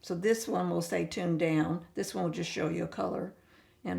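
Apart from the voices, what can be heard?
None of the usual background noises is heard.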